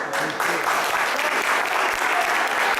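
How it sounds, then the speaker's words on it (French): An audience at an evening magic show in Maubeuge claps in steady, dense applause, loud and close throughout the short burst. "Et on peut l'applaudir comme il se doit."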